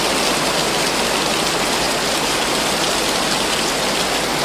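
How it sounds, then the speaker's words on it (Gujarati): Heavy rain pours down at Saputara in a loud, dense, unbroken roar, close and constant from start to finish. "જોઈ લો સાપુતારાનો વરસાદ કેવો છે"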